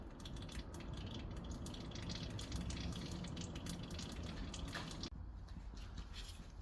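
DSG transmission oil from a 2008 Audi A3 2.0 TDI drains steadily into a container, a soft, constant trickle and gush with no voices.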